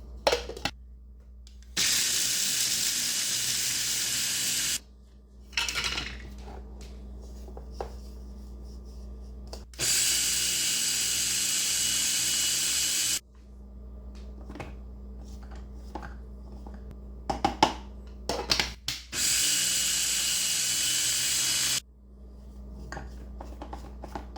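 A countertop blender grinds nuts and seeds into butter in three loud bursts of steady whirring, each lasting a few seconds, with quiet pauses between them filled by clinks and scraping as the mixture is pushed down.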